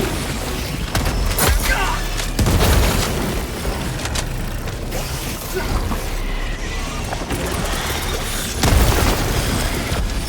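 Grenade blasts and battle noise in the video game Helldivers 2, loud booming explosions and crashes over continuous combat din, with short voiced callouts from game characters.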